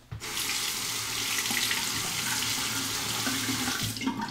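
Water runs steadily from a bathroom faucet into a sink while a razor is rinsed mid-shave, a constant close splashing hiss for about four seconds with a slight change near the end.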